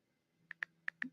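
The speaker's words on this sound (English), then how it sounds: "That's the sound of my thumbs tapping on the screen." Thumbs tapping on a phone screen, four sharp, distinct clicks in quick succession, close by and quiet against a near-silent background.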